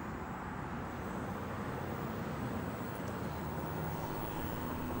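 Steady broadband traffic roar from passing cars fills the scene, a continuous road noise with no distinct individual vehicles standing out, heard while an Inokim OX Super electric scooter sits nearly silent.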